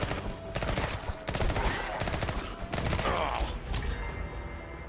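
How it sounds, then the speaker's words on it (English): A video game minigun fires in rapid, sustained bursts, a loud, dense mechanical rattle of shots that barely pauses, with chaotic battle noise layered around it. "Minigun!"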